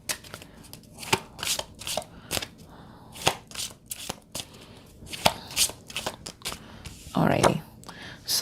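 Oracle cards are shuffled by hand in a run of quick papery riffles and soft slaps, close and irregular, with a louder rustling burst near the end.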